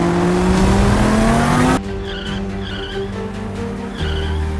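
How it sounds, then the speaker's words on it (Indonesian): In the Sakura School Simulator game, a car with failed brakes skids with a loud, rising tire squeal that cuts off abruptly, followed by a quieter engine hum with a few faint bumps. "Sialan, rem mobil ini nggak berfungsi, bangsat."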